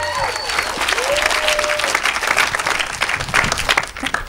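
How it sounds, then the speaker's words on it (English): An audience at a gathering gives a loud, full round of applause for Heather, with a whistle or cheer rising above the clapping early on. The clapping stays dense for a few seconds before thinning slightly. "Round of applause for Heather."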